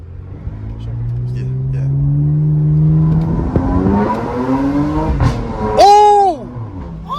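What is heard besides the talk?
Porsche with loud aftermarket exhaust revving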